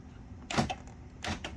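Power door locks on a Corvette C5 actuate in two quick mechanical clunks about three quarters of a second apart, close and fairly faint in a quiet garage.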